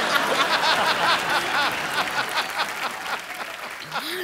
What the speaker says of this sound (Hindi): एक बार रेमो सर और जैकी के लिए जोरदार तालियां हो जाएं